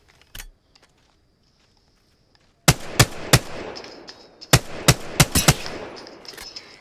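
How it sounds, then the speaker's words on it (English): Gunfire from the video game Apex Legends starts after a mostly quiet opening: a string of sharp, loud shots, some in quick bursts and some spaced apart, over a busy game-sound background. "Opening fire on the enemy."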